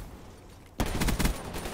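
An unsilenced Galil rifle in Call of Duty Black Ops opens up after a quiet moment in a loud, rapid burst of automatic fire. Sharp, closely spaced shots run to the end.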